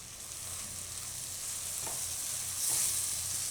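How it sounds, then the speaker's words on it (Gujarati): Tomatoes and mixed greens cooking in a pan for a Gujarati mixed bhaji dish give a steady, soft sizzle with faint stirring clinks, close and continuous with no talk. "હવે આપણે ટમેટાં એકદમ ગળી જાય ત્યાં સુધી આને પકાવી લેવું. વચ્ચે વચ્ચે હલાવતા રહેવું."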